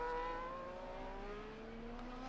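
An Alpine Formula 1 car in a racing video game holds a steady, rising engine tone through turn 16 at the Qatar circuit, a continuous whine with clear harmonics running alone for the whole stretch.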